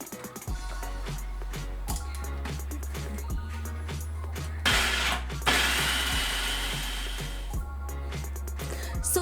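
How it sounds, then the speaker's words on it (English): A food processor grinds garlic into a fine paste, a loud rattling mechanical whir pulsing in short bursts with clattering and ratcheting, close and continuous. "now she's gonna cover it and process it into a fine paste"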